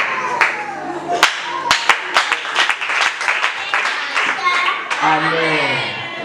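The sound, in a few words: audience applause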